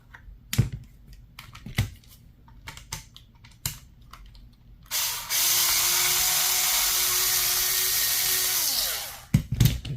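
Screws are loosened on the restrictor of an Umarex HDB less-lethal pistol: a few sharp clicks and taps, then a loud, steady whirring drive for about four seconds, ending in more handling clicks.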